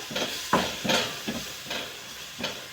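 Gram flour (besan) is stirred into hadga flowers in a pan, giving a steady run of soft scraping, rustling strokes roughly every half second, close and fairly quiet, with no talking.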